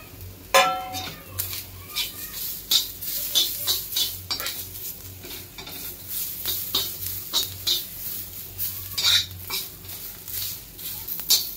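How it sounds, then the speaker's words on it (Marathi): Coconut, ginger and garlic are stirred while roasting in a pan for an eggplant curry, with repeated scraping and clinking of a spatula over a soft sizzle, close and irregular throughout. "आता आपण खोबरं, अद्रक आणि लसूण हे पण भाजून घ्यायचे।"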